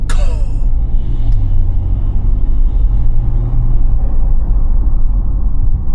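BMW G30 540i fitted with a MAD intake, engine coming off the throttle: a loud, deep rumbling drone that settles as revs fall, with a brief sharp burst right at the start.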